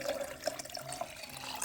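Lukewarm water running and splashing as a litre is poured to mix colonoscopy bowel-prep solution, a steady close liquid trickle with small drips and splashes, no talk.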